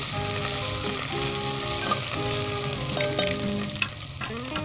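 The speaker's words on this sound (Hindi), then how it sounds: "अदरक लहसुन का पेस्ट डालेंगे। इसे 10 सेकंड के लिए हम फ्राई करेंगे।" Ginger garlic paste frying in a pan for Lahori mutton goshtana, a continuous close hiss with spattering pops and a few spoon knocks against the pan, steady and fairly loud.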